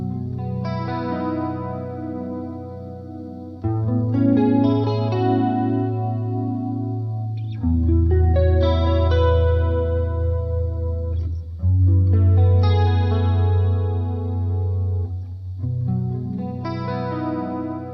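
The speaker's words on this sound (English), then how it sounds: "I'm going to throw on some reverb from the amp and the onboard stereo chorus effect" Electric guitar played through a Roland JC22 amp with the amp's reverb and onboard stereo chorus, clean sustained chords ringing out in slow phrases with a lush shimmering swirl and lingering tail, loud and alone.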